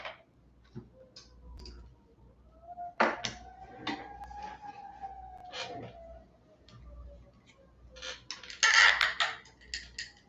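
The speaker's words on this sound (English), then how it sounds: "The glasses are really creaky still." Eyeglasses are handled close up, giving scattered small creaks and ticks with a few sharper clicks, and a brief rustle near the end, with no talking.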